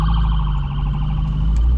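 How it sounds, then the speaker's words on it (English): An ambulance siren wails loudly and steadily nearby as a Porsche 911 991.2 GTS with a PDK gearbox drives, with a low engine rumble underneath. "We've got an ambulance coming"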